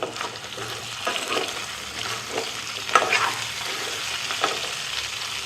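Potatoes and tomato sizzle steadily in a pan, a constant frying hiss with occasional soft stirring scrapes, close and moderately loud; no talking.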